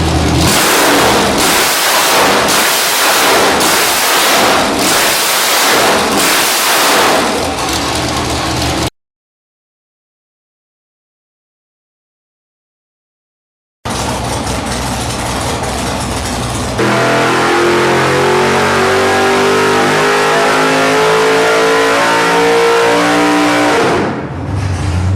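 Nelson Racing high-horsepower alcohol-injected engine revs hard in loud repeated blips, cuts out for several seconds, then returns as a sustained roaring run with rising pitch before dropping off at the end.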